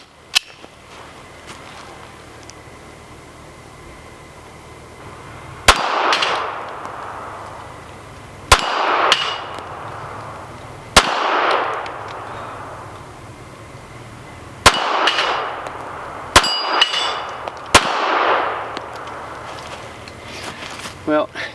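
Smith & Wesson Bodyguard .380 pocket pistol firing light practice ammo at a steel plate rack outdoors, about seven sharp, loud shots spaced a few seconds apart, each followed by a ringing decay, with a hint of talk between them.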